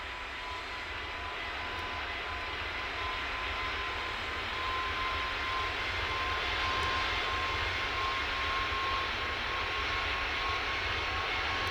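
A Boeing 767-300 cargo jet in the airport tower game Tower! Simulator 3 at KONT, its engines a steady, loud, broadband roar that holds and swells slightly throughout, with no talk.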